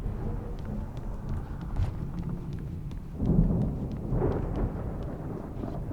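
A thunderstorm in the game Alan Wake Remastered rumbles with rolling thunder over steady rain, swelling into a heavier rumble midway, with no voices heard.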